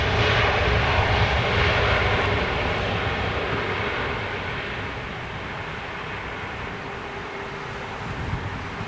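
Jet airliner departing London Heathrow, a broad, loud engine roar that is strongest at the start and gradually fades as the aircraft climbs away, with rushing wind-like noise throughout.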